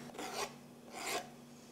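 Leeks chopped finely with a knife give two soft, raspy strokes on a board, close and quiet, with no talk.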